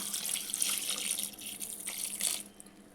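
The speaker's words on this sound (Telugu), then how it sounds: "ఇందులోనే వాటర్ వేసుకుందాం" Water poured into a pressure cooker holding onion and turmeric for temple-style spinach dal, a continuous close splashing stream that rises and falls for a few seconds, with no talking.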